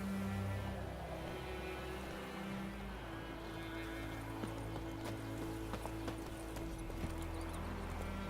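Roach, the horse in The Witcher 3, gallops with steady clip-clop hoofbeats over a continuous low in-game ambience, the rhythm holding close and even throughout.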